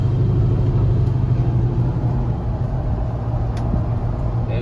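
A 1970 Chevrolet 1-1/2 ton pickup truck's engine drones steadily from inside the cab while driving, with a loud, continuous low rumble and harmonic hum that stays even throughout, no voices present.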